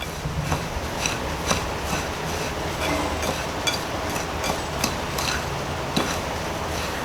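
Coconut shrimp ingredients being stirred together in a bowl produce a continuous clattering scrape with irregular light clinks, close and steady, with no voices.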